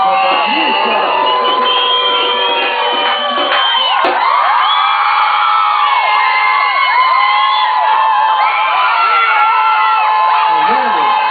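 Festival crowd at a summer event in Amsterdam cheering, whooping and shouting for a performer named Patrícia, loud and continuous, with many overlapping excited voices.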